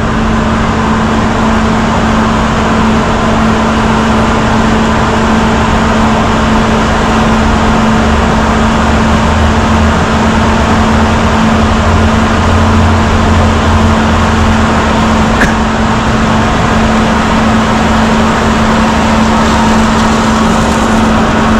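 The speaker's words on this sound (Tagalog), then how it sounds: "Tingnan natin kung makakadiretso siya dito na hindi namamatay yung motor." A motorcycle engine runs steadily without stalling, a loud, constant close-up drone with no break and no talk over it.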